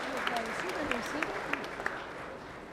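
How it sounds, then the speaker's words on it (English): At a church service, an audience applauds with scattered, fairly evenly spaced claps beneath a speaking voice. "Give yourself a round of applause."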